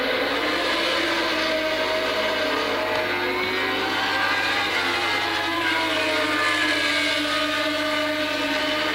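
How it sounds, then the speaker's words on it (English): A 1981 Formula 1 car at the German Grand Prix in Hockenheim drives out of the Opel curve, its high engine note droning steadily and loudly, with rising and falling pitch sweeps throughout. "let's listen again to his engine notes as he comes out of the right hand of the Opel curve"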